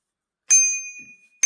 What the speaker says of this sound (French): Juste qu'une petite sonnette.